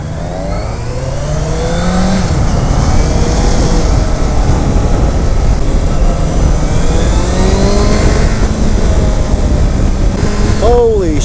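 A 2015 Honda CBR650F motorcycle engine revs hard while being ridden, a loud, continuous rising and falling drone with wind rush throughout and a quick rev burst near the end.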